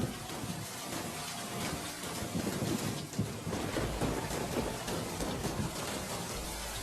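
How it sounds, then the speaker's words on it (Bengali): Heavy rain in a Bangla cartoon on a stormy day, a dense continuous roar of downpour with faint low rumbles, steady and full throughout with no voices. "দেখেছো বাবা, কত জোরে বৃষ্টি হচ্ছে?"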